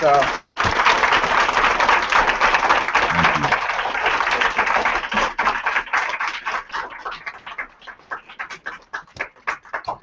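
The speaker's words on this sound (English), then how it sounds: "So also just wanted to give you a round of applause." Middle school students in a classroom give a round of applause, loud and dense clapping that starts abruptly, holds steady, then thins into scattered individual claps before fading out.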